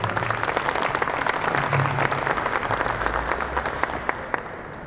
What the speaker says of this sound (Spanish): les pido un fuerte aplauso para el doctor Carballo